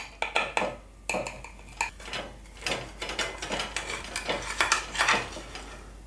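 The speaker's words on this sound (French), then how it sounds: "Alors, on va se couper donc une jolie part." A knife cuts a slice from a baked egg and vegetable galette, with repeated close scraping and tapping against the dish and cutlery clinks in an irregular rhythm.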